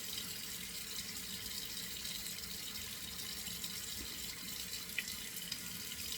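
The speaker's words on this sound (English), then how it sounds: "So I'm washing my face with this." Water runs steadily from a sink tap while someone washes their face, a soft continuous splashing hiss with one small drip-like tick, faint and without speech.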